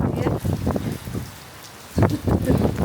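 Rain falls steadily on a wet morning at home, a soft continuous patter that eases slightly, with people talking over it in short bursts.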